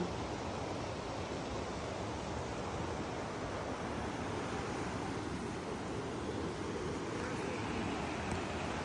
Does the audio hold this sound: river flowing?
yes